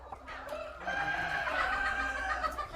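Roosters and chickens cluck and call outside at a home poultry farm raising a couple thousand birds, several overlapping bird voices fairly close and steady throughout, with no talking.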